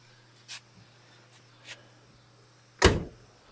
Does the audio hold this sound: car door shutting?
yes